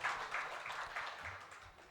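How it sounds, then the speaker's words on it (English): An audience at a semiconductor workforce event applauds the moderator, a soft, even wash of many hands clapping that fades gradually, heard from some distance in a large hall. "Please join me, ladies and gentlemen, in welcoming our moderator with a round of applause"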